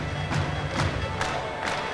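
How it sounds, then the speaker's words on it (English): A high school boys' basketball crowd cheers in a gymnasium during a La Crosse Logan versus Winona game, with rhythmic surges of noise pulsing through the brief stretch. "There's a crowd on hand here at McCowan Gymnasium. They've been loud all game long."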